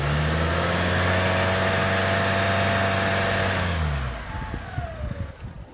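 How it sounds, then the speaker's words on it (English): A Nissan Altima engine with a clogged catalytic converter holds a loud steady rev, then falls away and settles into a rough, uneven idle, heard close with no talk. "and when you rev her out,"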